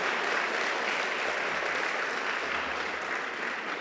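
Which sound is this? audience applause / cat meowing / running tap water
audience applause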